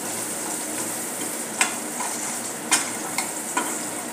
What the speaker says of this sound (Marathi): लसूण चांगला परतून घेऊया.